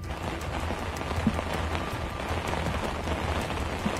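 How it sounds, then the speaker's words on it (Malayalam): Heavy rain pours steadily in Kottayam, Kerala, a dense continuous hiss of drops hitting surfaces throughout, with no one speaking. "ഇപ്പോൾ ഇതാ വീണ്ടും മഴ കനത്തു തുടങ്ങിയിട്ടുണ്ട്"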